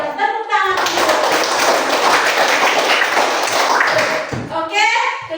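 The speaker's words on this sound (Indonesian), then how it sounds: "Tepuk tangan." Hand clapping from a class or congregation fills about four seconds with dense, steady claps, preceded and followed by brief speech.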